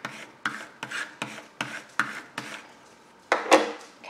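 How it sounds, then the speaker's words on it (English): A burnishing tool rubs down layered vinyl in a quick series of about eight short, scratchy strokes, close and fairly loud, ending with a longer firmer rub. "Gonna burnish this down."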